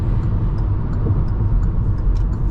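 Steady low road rumble fills the cabin of a 2022 Hyundai Accent on the move, a constant close drone with faint ticking on top and no voices.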